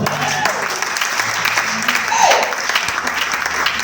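A church congregation breaks into sustained applause, the clapping dense and close throughout, with cheering voices mixed in and rising to a brief peak partway through.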